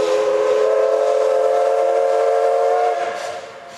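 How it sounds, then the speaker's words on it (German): A steam train arriving on a Japanese line from Kanaya lets out a long, loud, sustained whistle that holds steady for about three seconds, then fades as the train draws near, with no talk over it. "Und hier kommt er endlich, der erste Dampfzug des Tages."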